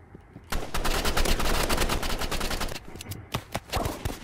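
Rapid bursts of gunfire from the video game Roblox Rivals, loud and close, a dense run of sharp repeated shots that pauses briefly before a few more scattered cracks near the end.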